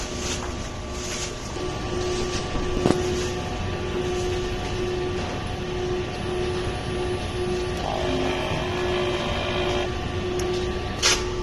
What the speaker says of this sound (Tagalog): Punasan ng wiper pagkatapos mag-head clean